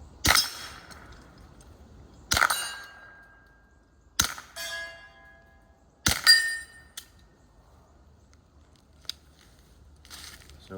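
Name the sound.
suppressed rifle firing 147 grain subsonic ammo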